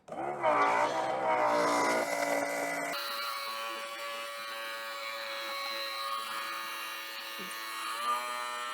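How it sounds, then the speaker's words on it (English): A VEVOR diesel fuel transfer pump kit runs with a loud, tonal electric motor whine that shifts pitch after switching on, then settles into a steady buzzing hum while fuel flows. "But I'm going to go ahead and hit the pump on."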